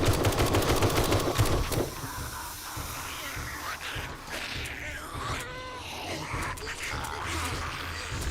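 Rapid gunshots in 7 Days to Die during a horde night, a dense burst of fire at the start, then scattered hissy shots and clatter under ongoing game noise, with a voice speaking.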